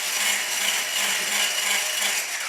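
An electric whisk running on its fast setting, beating eggs for a chocolate cake batter, giving a continuous close whirring buzz with a faint rhythmic pulse throughout.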